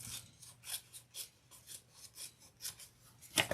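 Scissors trimming the overhanging edge of a leather handbag pocket, a series of faint, close snipping cuts at a steady rhythm, ending in a slightly louder crisp snip.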